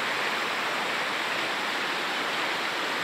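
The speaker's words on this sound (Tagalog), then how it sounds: "Simula dyan, maingay yung tubig." Majayjay River in Laguna rushes noisily, a steady, dense, close wash of flowing water with no other sounds.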